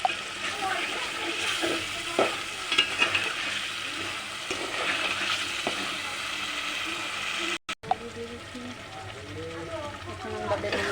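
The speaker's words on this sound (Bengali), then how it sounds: "ভালো করে একটু পানি দিয়ে কষাতে হবে।" Spiced curry with bottle gourd being stir-fried with a splash of water, a steady sizzling hiss with scraping stirs throughout and a brief cut near the end.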